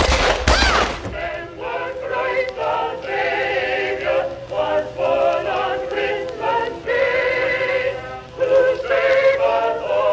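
Rapid gunfire in the online murder game The Ship, bursts of shots rattling continuously over a busy, dense game mix, with a sharp loud hit at the very start.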